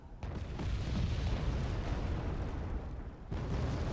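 Continuous heavy artillery barrage in the Wargame Red Dragon war game, dense rumbling booms layered into a loud, unbroken roar with a brief dip near the end before the bombardment resumes.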